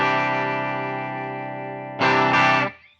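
Clean electric guitar on the bridge pickup through a 12-inch Greenback speaker cab, sustained chord ringing and slowly decaying, then a second louder strum near the end that cuts off abruptly; close and alone, no talk.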